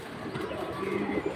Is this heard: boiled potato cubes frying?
no